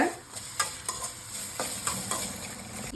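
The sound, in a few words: ginger sautéing in oil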